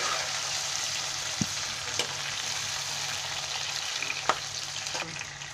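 Tomatoes fry with onion and garam masala in a pan, giving a steady, close sizzle with a few sharp ticks from stirring or spattering along the way.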